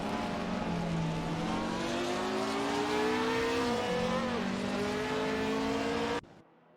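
Engines of 1950s Formula One race cars lapping Bahrain Circuit in a racing video game drone loudly and steadily, their pitch shifting and climbing before cutting off abruptly.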